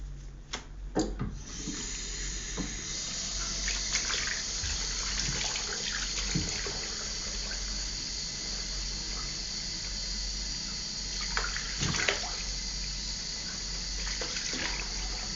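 Water from a tap runs steadily into a sink while a hairpiece is washed with soap, a continuous close hiss with occasional splashes and knocks and no talk.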